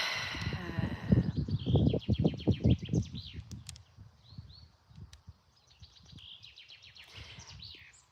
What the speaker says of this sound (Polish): Słyszycie te ptaki?